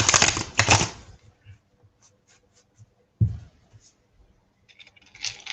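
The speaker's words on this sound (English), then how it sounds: "I'm going to shuffle." A deck of cards is shuffled close by: two quick riffling bursts, one at the start and another partway through, with faint taps and clicks in the quiet between.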